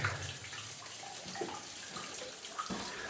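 Water pours and trickles steadily inside a flooded mine adit, a continuous splashing flow with nearby dripping, heard alone without voices.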